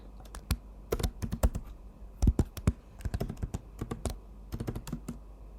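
Someone types a username and password on a computer keyboard, producing close, crisp key clicks in quick irregular bursts with short pauses between them, and no voice over them.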